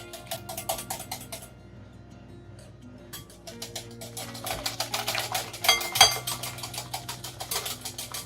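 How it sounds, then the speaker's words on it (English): Vegan chocolate cupcake batter is whisked in a bowl, giving a quick run of light metallic clicks and taps at close range, pausing briefly before resuming with a few louder clinks. "I am whisking it."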